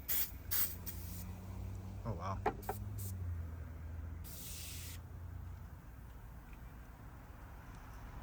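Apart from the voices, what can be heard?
cleaner sprayed onto a corroded Ford Mustang battery terminal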